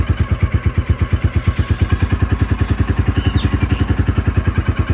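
A Royal Enfield Classic Stealth Black 2023 motorcycle thumps close by in an even, rapid single-cylinder rhythm as the clutch is eased out, loud and steady throughout with no voices.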